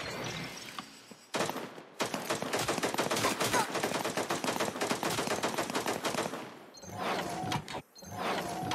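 Rapid automatic gunfire in the video game Cyber Hunter, shooting through grass: a loud, sustained stream of close shots for several seconds, then a pause and a few more bursts near the end.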